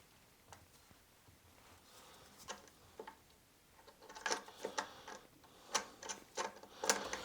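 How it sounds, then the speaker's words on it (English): A toilet seat bolt is screwed down from the top into a wing nut held underneath, giving a series of small faint clicks and scraping ticks that grow louder and busier toward the end. "from the top we're just going to screw it in"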